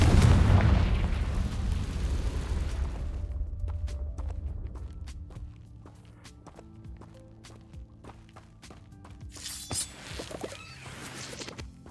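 A fire spell's explosion in the Hogwarts Legacy video game: a heavy booming blast that rumbles and fades over several seconds, followed by scattered footsteps, clicks and a brief crackling burst near the end.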